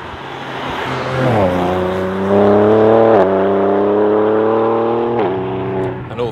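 A loud BMW M3 xDrive Competition's S58 engine revs hard, its pitch climbing steadily through the gears with brief shifts between pulls.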